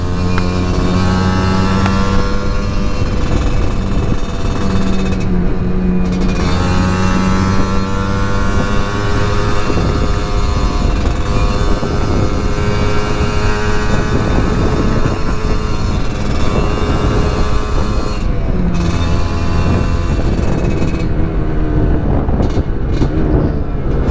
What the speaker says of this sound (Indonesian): Ini masih baru dipanasin sih, langsung digas, masih dingin mesinnya, belum panas.